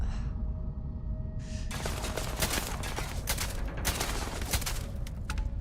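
Weapon fire in the video game Starfield: a quiet lull, then a sustained series of close, loud gunshot bursts and rapid volleys over a low rumbling backdrop.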